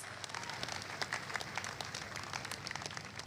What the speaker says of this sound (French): Applaudissons pour Jésus.